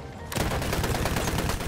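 Automatic gun in a shooter video game opening up after a brief quiet moment, firing a loud, rapid continuous burst of shots with no talk over it.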